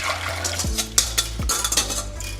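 Lemon cream mixture for a meringue lemon tart goes back into a saucepan, with clinks and scrapes of utensils against the pan and soft liquid movement, close and moderately loud, without speech.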